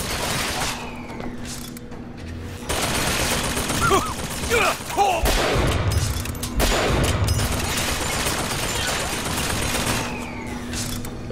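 Bursts of turret gunfire in the video game Bioshock Infinite, rapid repeated shots and booms in several volleys with mechanical clanks between, a steady game hum underneath and a player talking at times.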